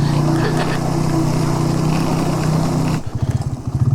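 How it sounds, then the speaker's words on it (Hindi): A motorbike engine drones steadily as the bike rides along the outer edge of a riverside road in the Utror Valley between Kalam and Gabral, with heavy wind rush. The engine drops to a pulsing idle near the end. "हम बाहर वाले किनारे पे बाइक चला रहे हैं"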